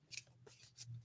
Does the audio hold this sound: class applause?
no